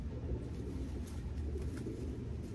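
A racing pigeon, a blue bar, coos softly under a steady low rumble of background noise, brief and somewhat faint.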